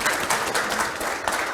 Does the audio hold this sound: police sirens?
no